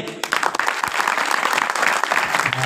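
Audience applause at a humorous devotional kirtan at Dhupeshwar temple in Harsoda, a dense, steady wash of many hands clapping throughout, with faint voices mixed in.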